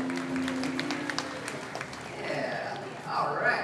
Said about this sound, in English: let's give her a round of applause for helping us out today